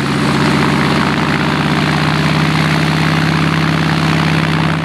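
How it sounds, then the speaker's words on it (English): A CAC-19 Boomerang WW2 fighter's Pratt & Whitney 1830 Wasp radial engine roars at full power nearby, a loud, steady, throbbing drone with a deep pulsing low end that holds unbroken throughout. "A roar from the Pratt & Whitney 1830 Wasp radial engine, and plenty of smoke, and the Boomerang is away."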